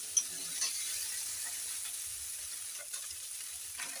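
Maggi noodles stirred with masala in a pan, a quiet, continuous low sizzle with soft scraping and clicking from the stirring, faint and close.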